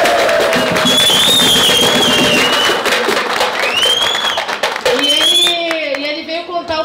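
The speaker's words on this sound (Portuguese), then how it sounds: "Queria pedir uma salva de palmas." A room of listeners claps at a talk with appeals judge Rogério Favreto, fairly loud and steady, with voices and a few whistles over it, thinning out near the end.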